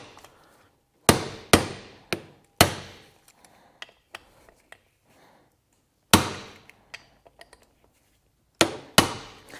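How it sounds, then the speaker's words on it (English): Hammer blows on a spring-loaded impact driver loosening bolts on a 1UZ engine, delivered as sharp metallic strikes in clusters of three or four with quiet gaps and faint clinks between. "This is spring loaded, so when you hit it, it sends a shock and turns the bolts for us."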